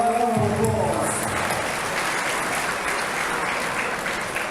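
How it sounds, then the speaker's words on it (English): An awards ceremony audience applauds steadily for several seconds, a dense wash of clapping that stays fairly even and slowly thins, with a brief voice at the very start. "How about a round of applause?"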